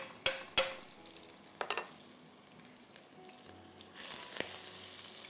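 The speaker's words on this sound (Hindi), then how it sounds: "गार्लिक को थोड़ा सा हम फ्राई करेंगे" Garlic frying in two tablespoons of oil, a soft, close sizzle broken by a few sharp metal clinks of a spoon against the pan, then a brief louder hiss.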